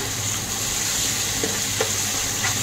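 Sugar being stirred into a cooking spice paste in a pan for potato dum, a steady close sizzle with a few soft scraping strokes, no voices.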